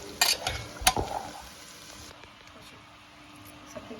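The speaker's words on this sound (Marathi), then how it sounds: "आपले आलूही मस्त झालेले आहे तेलामध्ये." Potatoes fry in hot oil as a spoon stirs them in the pan, giving a few loud scrapes and clatters at first before a soft, steady sizzle carries on underneath.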